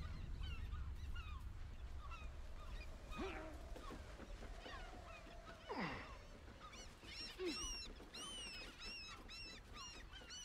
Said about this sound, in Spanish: Mira, las gaviotas frongerianas.